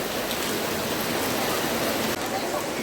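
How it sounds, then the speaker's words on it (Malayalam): Steady rain falls outdoors, a dense broadband hiss holding level through the whole stretch with no clear voices over it. "മഴ പെയ്യുവാണ് ഗൈസ്."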